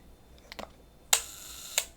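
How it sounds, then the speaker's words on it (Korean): Rolleiflex Standard, a vintage twin-lens camera, with its old-style shutter released: a couple of faint mechanical fiddling ticks, then two sharp close metallic clicks about two-thirds of a second apart in a quiet room. "그래서 사진을 셔터에다가 딱 찍으면 되는데, 옛날 방식은 셔터가 이렇게 생겼어요."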